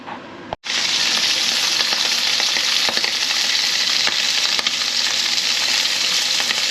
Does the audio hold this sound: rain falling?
no